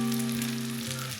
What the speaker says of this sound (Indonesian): langsung saja kita goreng buncis yang sudah kita tepungi